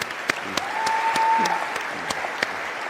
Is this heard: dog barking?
no